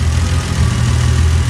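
BMW E30 with a 335i engine idling roughly and shaking, a loud close low rumble with an uneven, pulsing beat, heard alone without talk.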